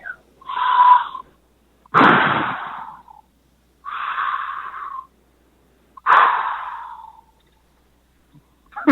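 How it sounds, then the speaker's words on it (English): Slow, heavy breathing on a voicemail recording, four long breaths alternating in and out with pauses between, close to the mic and slightly hissy. "Here's your requested voicemail of some heavy breathing."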